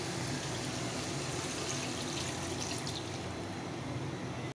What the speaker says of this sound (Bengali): এখন একটু ঝোল দিয়ে দিই।